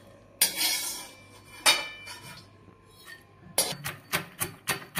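Roasted peanuts being coarsely crushed: sharp knocking hits, a few spaced apart, then a quicker run of crunchy blows near the end, close by.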